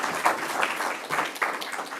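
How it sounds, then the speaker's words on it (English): A modest audience at an accelerator launch event claps briefly, an uneven patter of hands with a few sharper claps standing out, fairly close and without speech. "Let's clap for him."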